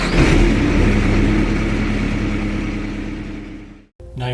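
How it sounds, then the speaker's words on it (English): Engine of an HII UHTS-D unit running loud and steady with a rumbling drone, then cutting out abruptly near the end before a brief other sound. "Go ahead and turn on the engine."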